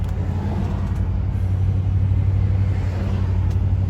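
A car engine rumbles low and steady throughout a test drive, a continuous close drone with even road noise and no talking.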